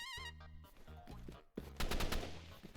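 Assault rifle fire in the video game Rivals, with a rapid burst of shots near the end cutting over game music and effects, loud and close.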